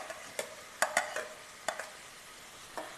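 Chopped coconut pieces fry in about a spoonful of ghee in a Kerala kitchen, giving a faint, soft sizzle broken by a handful of sharp clicks and taps as they are stirred.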